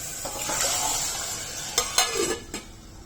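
Sizzling frying as cooked lentils go into a hot spice tempering, with a few stirring and scraping clatters from a utensil against a pan near the end; no talking.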